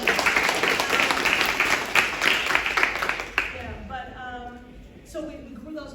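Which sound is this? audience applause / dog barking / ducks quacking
audience applause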